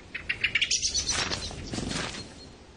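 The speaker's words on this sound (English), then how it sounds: "Warning calls alert the whole woodland." Several woodland birds give sharp, repeated chirping warning calls in quick succession, fairly near and clear, fading into a more diffuse twittering chorus.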